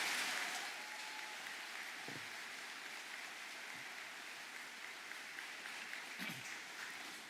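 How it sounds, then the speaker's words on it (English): Steady applause from a crowd at a university award ceremony fills the whole stretch, a dense even patter of clapping heard from a little distance. "Please give Rachel a round of applause."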